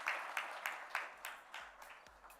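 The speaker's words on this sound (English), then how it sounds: "Let's give her a big round of applause, ladies and gentlemen" An audience at an education conference at ITC Grand Chola claps in a brief, thin burst of scattered hand claps, moderately near and trailing off within a couple of seconds.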